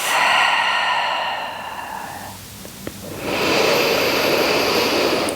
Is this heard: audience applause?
no